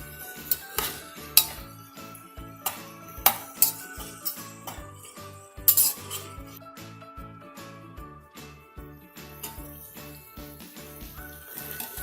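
Tomatoes being sautéed in a pan for mushroom biryani, with repeated metallic clinks and scrapes of a spoon against the pan in an irregular rhythm over a quiet background sizzle, no talking.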